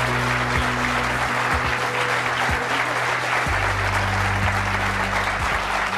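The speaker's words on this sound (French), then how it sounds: "Je vous demande de l'applaudir chaleureusement." A TV talk show studio audience applauds warmly as a guest is welcomed, a dense, even round of clapping lasting several seconds over a faint low hum.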